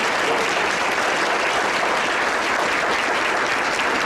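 Audience applause for veterans at a volunteer honoring ceremony, a dense, steady wash of clapping from a large crowd that holds evenly at full strength throughout.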